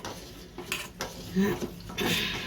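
A chocolate dessert being stirred in a pan produces a few uneven scrapes and knocks of a utensil against the metal over brief moments, close by, with faint background noise and no clear talk.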